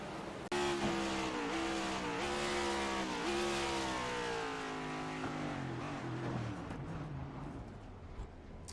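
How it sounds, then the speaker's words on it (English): A race car in a sim racing game locks its tires and slides into a barrier: a loud engine whine that drops in pitch, a squealing skid, then a fading rumble after the impact. "Huge lockup Chase Elliott style and goes in hard, and that's going to break his car."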